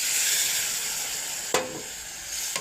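A spice paste with salt is fried in a hot karahi, giving a steady close sizzle broken by a couple of sharp scraping stirs.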